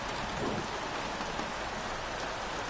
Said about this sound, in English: Might be the rain.